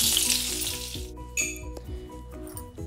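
Butter dropped into hot mustard oil gives a loud, dense sizzle for the first second, then settles into a quieter crackle and spatter while a steady tonal hum runs underneath.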